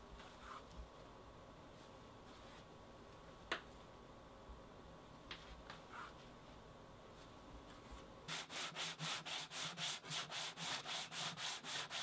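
Sanding the stitched edges of a leather wallet: a steady rhythmic back-and-forth rasp of about a dozen strokes starts late and fills the end, following a quiet stretch with a few faint taps.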